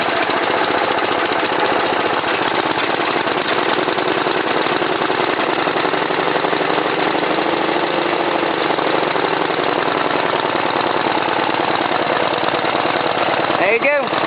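A John Deere 60 tractor engine runs steadily after a cold start, a loud, continuous rough drone that holds through the whole stretch with no talk over it.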